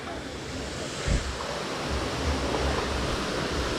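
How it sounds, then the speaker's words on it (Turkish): Sütüven Waterfall in the Kaz Mountains pours with a loud, continuous broadband roar heard up close, a steady wash of rushing water with a brief thump partway through. "Şelaleyi görmek için mecburen buraya girmek gerekiyor. Yoksa sadece sesi duyuluyor."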